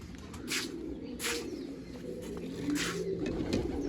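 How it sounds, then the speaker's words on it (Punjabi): Pigeons sunning outdoors coo continuously in a layered low chorus close by, with a few brief brighter bursts of wing or rustle noise. "ਕਬੂਤਰਾਂ ਇਹ ਧੁੱਪ ਲਵਾਈਏ ਪੂਰੇ ਐਕਟਿਵ ਹੋ ਗਏ ਆ ਕਬੂਤਰ"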